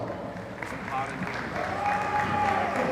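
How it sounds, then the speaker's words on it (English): Audience applause at a Red Poll cattle show, broadband clapping that swells slightly louder toward the end with crowd murmur and a faint voice underneath. "Let's give both these exhibitors a round of applause."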